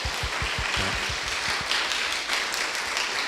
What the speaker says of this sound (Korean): 우리 힘차게 박수해 주시고요.